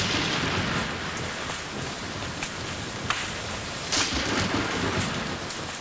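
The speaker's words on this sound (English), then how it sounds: "it begins to rain" Heavy rain pours steadily over dense jungle, a loud, even wash of drops with a few sharper bursts and possible distant thunder rumbling underneath.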